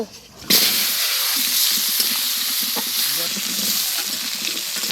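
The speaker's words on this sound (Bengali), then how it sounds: "আলু লাল লাল করে ভেজে নিয়েছি, তুলে নেব।" Potatoes fry in hot oil in a pan during traditional rural cooking, giving a loud continuous sizzle with occasional stirring scrapes close by, and faint talk underneath.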